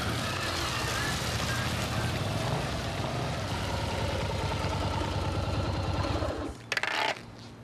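Christopher Tate's motorbike engine runs steadily and loud and near, a continuous mid-pitched rumble that holds for most of the clip before cutting down near the end, with a brief clatter after.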